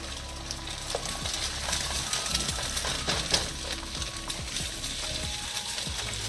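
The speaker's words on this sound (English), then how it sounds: "Get our eggs scrambling." Eggs scramble in avocado oil in a pan, a steady close sizzle with occasional soft scrapes and taps of a utensil and no talk.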